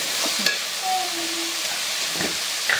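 Cabbage and cauliflower are stirred in a sambar pot, producing a steady hissing sizzle broken by a few brief scraping clicks, close by and with no speech.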